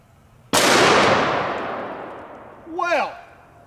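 .500 Magnum revolver fired at a steel plate: one loud, sharp blast with a long decaying ring, followed by a short burst of voice.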